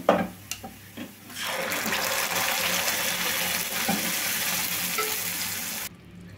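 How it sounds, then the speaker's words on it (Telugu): Cooked lentils poured into hot tempering, a few clinks and taps, then a sustained loud hiss and bubbling rush as the dal hits the pan, cutting off abruptly near the end. "చూడండి పప్పు మొత్తాన్ని ఇట్లా వేసుకున్నామండి"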